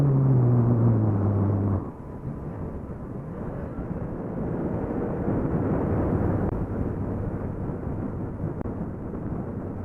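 A Yamaha FZ-09 motorcycle is ridden through corners, with a tonal engine note at first, then a muffled, wind-buffeted rumble as the ride continues steadily at a moderate level.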